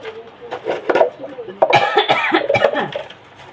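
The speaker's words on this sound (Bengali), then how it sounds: "খুব কাশি হয়েছে" Several harsh coughs from a person with a cold, loud and close, in a run of bursts with some voiced throat sounds between them in a home kitchen.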